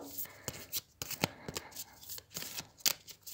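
Oracle cards shuffled by hand for a reading; close, crisp riffling and slapping bursts come in an irregular rhythm, with occasional sharp card snaps.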